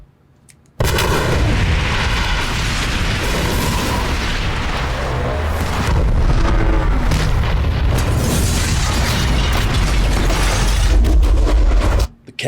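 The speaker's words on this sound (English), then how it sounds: "That's a real explosion, y'all." A massive practical film-set explosion from The Dark Knight erupts and rumbles on, a loud, sustained roar of blast and debris with deep booms, heard alone without any talking.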